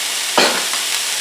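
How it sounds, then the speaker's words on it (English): Chopped celery and yellow onion are tossed into a hot pot, a sudden burst of sizzle that swells and settles back into a steady frying hiss. "I'm going to toss in all the celery next."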